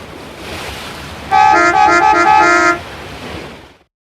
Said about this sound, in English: This car is a jewel. The sound of the horn alone.